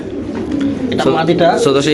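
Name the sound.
Lahori pigeons cooing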